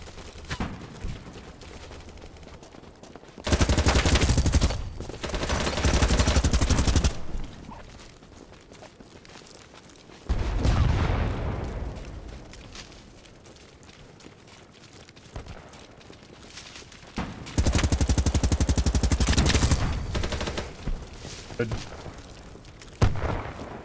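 Sustained automatic gunfire in a multiplayer shooter, long loud bursts of rapid fire separated by quieter gaps with footsteps, coming in several extended volleys, voices talking in between.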